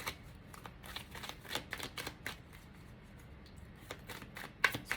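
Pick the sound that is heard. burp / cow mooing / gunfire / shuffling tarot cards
shuffling tarot cards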